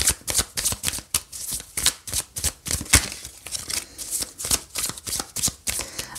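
Tarot oracle cards are shuffled close up, producing a quick, continuous run of crisp riffling flutters and soft slaps in an even rhythm, with no talking.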